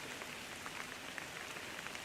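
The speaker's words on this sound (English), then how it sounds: "It's starting to rain again." Steady rain patters on leaves and ground in the woods in a continuous soft hiss, fairly close, with no voices.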